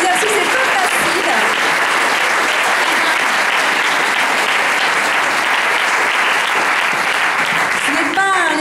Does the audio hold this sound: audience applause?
yes